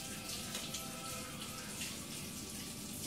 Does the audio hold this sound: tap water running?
yes